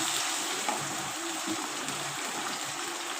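Garlic-ginger paste frying in a pan with golden onions, a continuous close sizzle and hiss that stays even and loud throughout with no talking.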